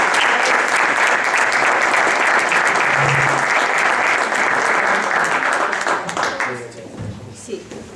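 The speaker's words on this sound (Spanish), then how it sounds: "vamos a darles un aplauso" Seminar audience applauding in a hall, a loud, sustained roll of many hands that runs for several seconds, then thins and fades out near the end as a few scattered claps and faint sounds remain.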